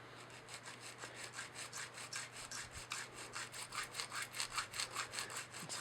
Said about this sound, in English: I need to file a little bit more. It is stainless wire,